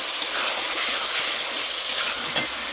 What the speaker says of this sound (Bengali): এবার ডালটাকে ভালো করে ভেজে নেবো।